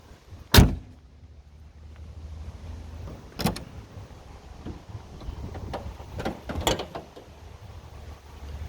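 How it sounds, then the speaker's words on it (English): Hood of a 1963 Bentley S3 saloon popping open: a sharp, loud mechanical clunk of the latch, followed a few seconds later by fainter clicks and creaks of the bonnet lifting, in a quiet setting without speech. "Can you pop the hood open?"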